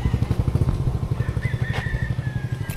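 A 2024 Yamaha Aerox motor scooter engine idles and putters in a rapid, even pulsing rhythm, close and fairly loud, with a faint whine rising briefly partway through.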